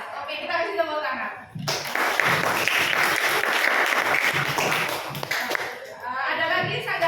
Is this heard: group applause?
yes